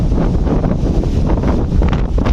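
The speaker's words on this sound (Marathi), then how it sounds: "बघा स्पीड बघा काय ती वारे" Strong wind buffets and roars loudly against the microphone in gusty low blasts on a large fast-moving boat on open water.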